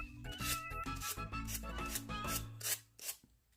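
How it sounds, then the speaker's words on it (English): A finger sander trims excess tissue paper from a decoupaged wooden piece, giving a steady buzzing, rasping drone with a few short pauses near the end, close and fairly quiet. "brought on in the finger sander and trimmed down any of the"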